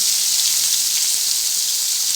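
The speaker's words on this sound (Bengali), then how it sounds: "ভাজা ভাজা করবো তো এর মধ্যে আছে পটল আলু মিষ্টি কুমড়ো আর বেগুন" Vegetables frying in a pan: pointed gourd, potato, pumpkin and eggplant. A steady, bright sizzle runs continuously, close and fairly loud, with no talking.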